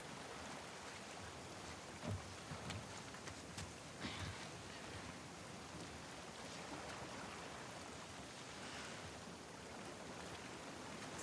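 Steady rain in The Last of Us Part II, a dense even hiss of falling water throughout with a few faint knocks, no voices.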